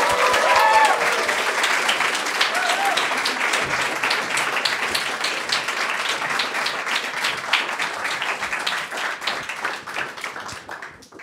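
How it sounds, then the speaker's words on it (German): Loud crowd applause for a youth hackathon team called onto a stage in Austria, dense clapping that starts strong and gradually fades toward the end. "Einen großen Applaus."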